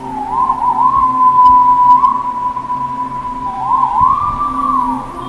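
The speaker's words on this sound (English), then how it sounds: "Been doing this kind of whistle with my hands ever since I was a child." A clear, steady hand whistle, held as a long tone with warbling bends at the start and again near the end.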